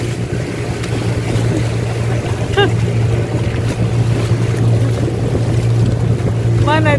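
Motorboats off Lovina, Bali drone steadily on open water as they head out to find dolphins, with wind and splashing over the engine hum and voices talking faintly.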